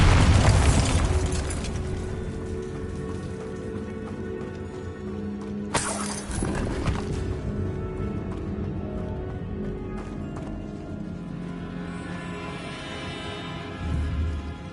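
A Bombarda spell bursts in Hogwarts Legacy with a loud opening boom, a sharp second blast midway, and rumbling debris and ambient game sounds in between.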